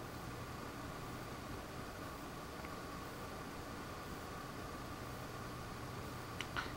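A Zotac GTX 560 Ti AMP! Edition graphics card fan runs at 40% auto speed about 22 inches from the microphone, giving a faint, steady airy whoosh with no change in pitch or level.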